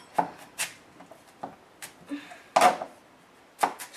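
A knife chops through raw sweet yams on a board in several sharp, separate strokes, with one heavier cut near the end, close and fairly quiet.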